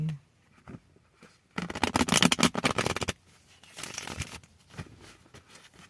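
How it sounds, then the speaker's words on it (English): Close, rapid fluttering clicks of cards being shuffled come in two quick bursts, with quiet pauses between. "If I can shuffle."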